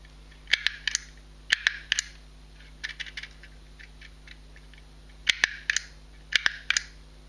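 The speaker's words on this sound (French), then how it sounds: "j'entends le clic qui m'annonce que j'ai fait un espace" A mini label maker clicks as its handle is squeezed to punch spaces: sharp, crisp snaps in small clusters of two or three, close and quiet against a faint hum, with short pauses between presses.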